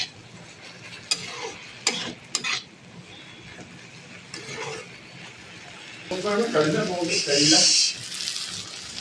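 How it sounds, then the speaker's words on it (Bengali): Banana flower (mocha) with a little spice powder and ghee is stirred dry in a pan, giving a few sharp scrapes and clinks early on and then a longer stretch of brisk, sizzling stirring. "দিয়ে এখন এটা ভালো করে নাড়বো, শুকাবো একটু"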